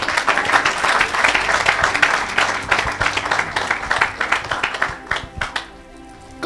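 A church congregation claps and cheers in loud, sustained applause to acclaim Jesus, a dense wash of hands that thins out near the end.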